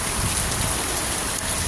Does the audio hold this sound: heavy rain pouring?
yes